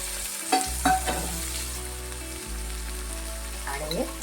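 Chopped cabbage added to a hot pan for an aloo gobi matar vegetable dish, setting off a close, steady sizzle with a few scraping stirs over a low constant hum, no talking.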